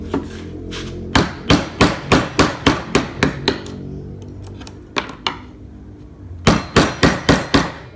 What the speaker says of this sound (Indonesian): saya menggunakan pahat kol, masih menggunakan pahat kol ya teman-teman